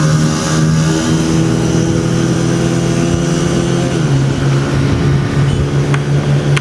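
Honda CG 125 motorcycle engine running on a test ride, a steady close mid-pitched drone that shifts lower around four seconds in as the revs change, with no voices.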